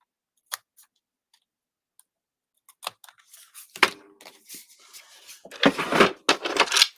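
Short crisp snips and rustling of paper being cut with scissors, a few isolated clicks first, then denser trimming cuts close by, no talking.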